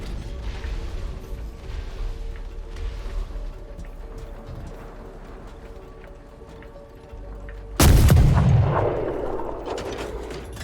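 A shotgun firing in the game Sand lands as one sudden loud blast near the end, followed by a rumbling decay over steady mechanical background noise.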